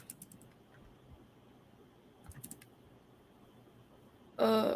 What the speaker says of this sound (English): I was wondering why I was typing and nothing was appearing